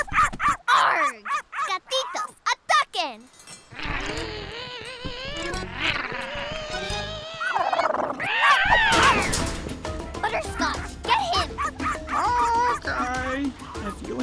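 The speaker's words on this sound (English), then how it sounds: "who let the dog out?" A cartoon dog barks in quick, loud bursts mixed with other animated animal and effect sounds, while characters talk throughout.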